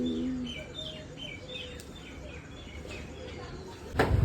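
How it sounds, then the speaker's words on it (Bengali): Several birds chirp and tweet repeatedly in the early morning, moderately close, with a cooing note and soft background noise. "আওয়াজ হচ্ছে কত পাখি"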